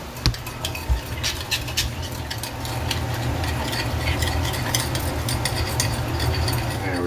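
Egg being stirred into Maggi mee goreng noodles in a pan, a steady scraping and mixing with a low sizzle and occasional utensil clinks against the pan. No one speaks.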